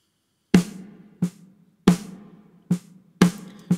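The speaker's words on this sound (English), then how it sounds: "Coupled that with a second snare sample, which sounds like this." A layered snare drum sample for a rock mix, chosen for a heavier thud, lands as a series of punchy solo hits in an uneven pattern, each with a fat low body and a quick bright decay.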